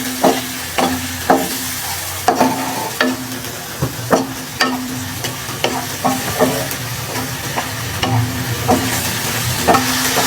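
Potato curry frying in a pan with a steady sizzle, broken by regular scraping strokes of a spoon stirring the pieces, close and fairly loud with no talking.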